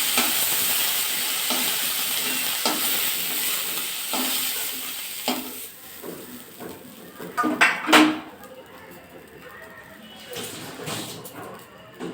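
Food fries in a pan with a soft sizzle, broken by repeated scrapes and clinks of a spatula against the metal that grow louder and busier toward the middle.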